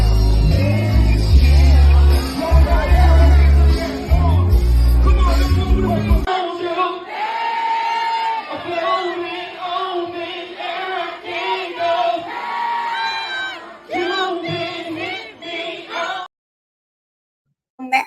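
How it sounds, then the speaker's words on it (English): A live crowd at a music show cheers, shouts and whoops loudly and continuously, with heavy bass-thumping music underneath at first, then brighter yelling that cuts off abruptly near the end. "Yeah, you heard the crowd, man."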